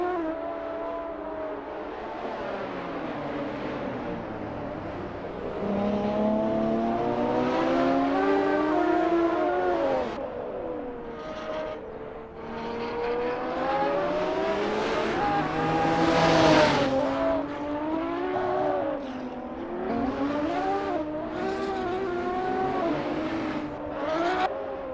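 Race cars at the Nurburgring GP circuit in a sim racing game warm up, with several engines whining and revving, pitch rising and falling through gear changes as cars pass, plus occasional tire squeal.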